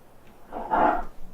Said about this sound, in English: A sheep, not a cow. These are sheep.